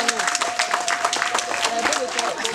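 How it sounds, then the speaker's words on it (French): Applause at a baptism celebration for several children: dense, steady clapping through the whole short stretch, with a sustained tone and voices mixed in underneath. "Et Thierry Junior, si on peut les applaudir, s'il vous plaît."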